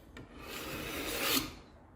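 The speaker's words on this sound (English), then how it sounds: "So this I can then put on here, and a little bit of light scraping." A single light scrape with a scraper across a mirror during restoration, a soft rasping stroke that swells over about a second and then fades, heard alone and fairly quiet.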